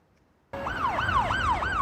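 An ambulance siren in Spain, responding amid the overwhelming flow of emergency patients, breaks in loudly and close after half a second of quiet, sweeping up and down in a repeated rising-and-falling wail.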